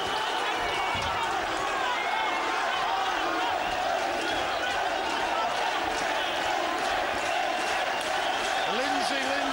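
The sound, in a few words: boxing crowd chanting Lindsay's name in the hall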